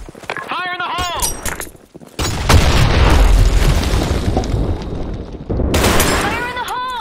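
Deep booming grenade blasts from a video game roll out in a loud, sustained rumble lasting several seconds, framed by short bursts of radio-style voice chatter and clicks before and after.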